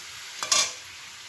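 Chicken being stirred in a frying pan makes one short scraping swish with a brief burst of sizzle over a low, steady frying hiss, close and without speech.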